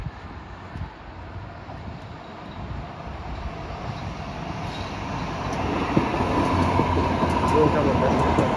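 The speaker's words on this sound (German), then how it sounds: "da kommt die Rheinbahn mit einem B80D" Rheinbahn B80D light rail car pulling into Lohausen station in Düsseldorf, a low rumbling roar that swells gradually as it approaches, mixed with outdoor wind noise and faint high squeals.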